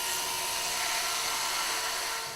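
A drill runs continuously and loudly with a very long 2 metre bit, giving a steady high whining grind with no breaks for the whole moment and no voices.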